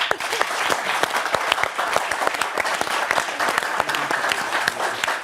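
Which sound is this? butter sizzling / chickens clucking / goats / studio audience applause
studio audience applause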